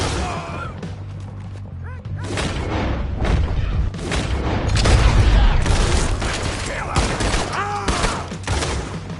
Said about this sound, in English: Shoot that bastard!